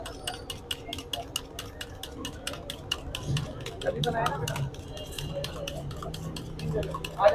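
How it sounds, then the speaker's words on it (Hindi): Malpura batter being stirred with eggs in a bowl at a sweet shop, a steady scraping and tapping of a utensil with metallic clinks, under busy background chatter and street noise. "ये अब इसको जो है वो मिक्स किया जाएगा अंडे के साथ"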